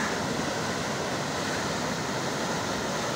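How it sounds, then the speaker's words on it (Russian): Flooded Urkan river rushing beside a washed-out road, a constant dense roar of water filling the whole short stretch without pause, no voices. "Разлилась речка Уркан и все, которые рядом речки."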